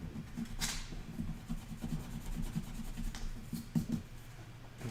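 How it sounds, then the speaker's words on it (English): An eraser rubbing back and forth on a sheet of paper, close and quiet, with soft scratchy strokes, faint taps and light thumps, no speech. "I don't know if I can erase this."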